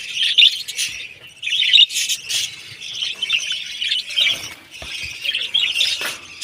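Pet birds in a cage give repeated sharp squawks and chirps in short bursts, close and fairly loud, with no talk.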